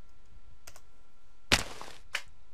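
A few keystrokes on a computer keyboard while entering a spawn command in Minecraft single player: a couple of light taps, then a louder clustered burst of clicks and one final tap, close and dry.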